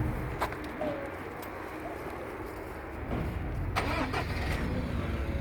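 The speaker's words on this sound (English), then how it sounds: "as you can hear now, the vehicle is running." A vehicle engine turns over partway through and settles into a steady running hum, while pigeons coo nearby outdoors.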